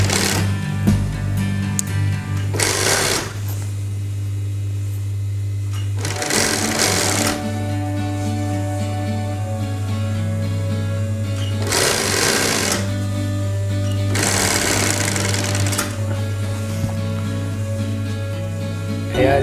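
A sewing machine stitches a zipper seam into fabric in several steady runs of rapid mechanical whirring. Short pauses fall between the runs, and a constant low hum continues underneath throughout.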